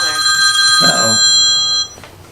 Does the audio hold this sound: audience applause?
no